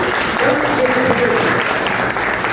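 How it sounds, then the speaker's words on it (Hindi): Audience applause at a celebration and training event in Raipur, dense steady clapping throughout with voices audible underneath. "जोरदार तालियां बजाएं एक बार"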